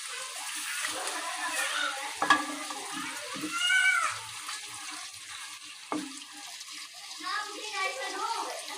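One kilogram of chicken leg pieces fry in about one and a half cups of hot cooking oil in a karahi over high heat, giving a steady hiss with a few sharp clatters while people talk over it.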